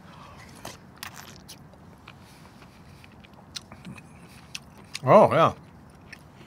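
Squid from a bowl of congee is bitten and chewed in a short burst of close, soft munching near the end, after a quiet stretch of small clinks and rustles, with a brief voice speaking.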